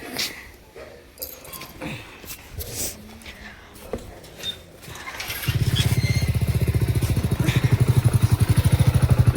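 A motorcycle engine starts partway through and settles into a loud, steady idle putter close by, after some handling clatter and brief talk beforehand.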